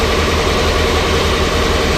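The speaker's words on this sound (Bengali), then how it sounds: "এটা হচ্ছে দুলিয়া 1-এর ইঞ্জিন রুম।" Twin engines of a passenger river launch run steadily in the engine room, a loud, close, continuous low mechanical drone with constant vibration and no other sounds.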